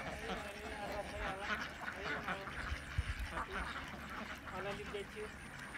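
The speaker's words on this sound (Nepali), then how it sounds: "कति छ हजुरको यहाँ हाँस?" Ducks on a duck farm quack repeatedly at close range in a busy, overlapping flock, with a person talking over the calls.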